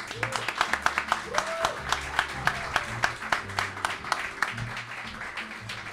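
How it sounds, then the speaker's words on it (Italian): A live audience at a podcast taping beside the Tiber claps, with sharp, uneven hand claps spread across the room over a low hum. Scattered voices speak beneath the clapping. "quindi se volete fate un applauso"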